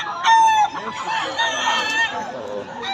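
A rooster crows loudly up close, with more chickens clucking and crowing against a busy background of crowd chatter, at a chicken yard in Bocaue.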